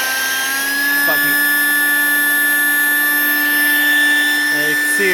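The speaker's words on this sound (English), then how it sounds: "you can use a pump to speed it up by just putting your pump here" A pump drawing air out of a Sable inflatable pool to deflate it, a steady, loud mechanical whine with a constant pitch that holds evenly throughout.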